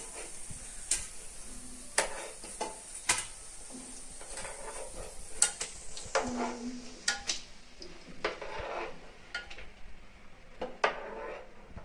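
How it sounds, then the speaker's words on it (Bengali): Cabbage pakoras fry in oil with a faint background sizzle, while frequent scrapes, clinks and taps of a utensil against the pan punctuate it at irregular intervals. "মসমসে করে ভেজে নিচ্ছি"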